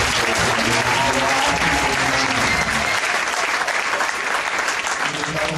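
A church congregation breaks into loud, sustained applause, a dense wash of clapping that fills the whole moment, with a voice speaking over it near the start.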